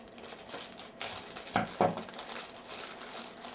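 A parcel wrapped in a thin polyethylene bag is unwrapped, giving soft crinkles and a couple of sharper plastic rustles up close, quiet and irregular, with no talk.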